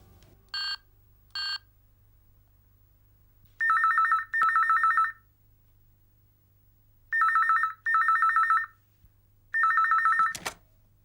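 A telephone rings in a TV drama scene: two short rings, then three pairs of longer electronic trills separated by quiet pauses, alone with no talking.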